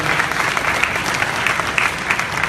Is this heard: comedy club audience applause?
yes